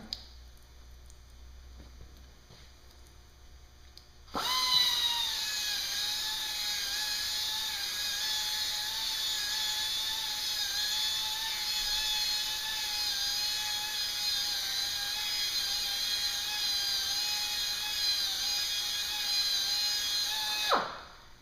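An electric polisher fitted with a 3000-grit pad runs on natural stone, starting abruptly after a quiet moment and holding a steady whirring drone with a faint high whine for about sixteen seconds before stopping.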